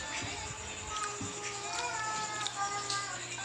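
A house cat meows a few times at moderate distance over a steady background hum, with faint voices and household noise around it.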